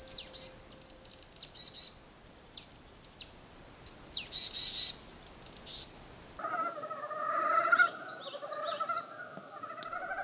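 Birds in a snowy Korean pine valley forest in winter give scattered high chirps and calls at varying distances, then a nearer bird adds repeated warbling notes.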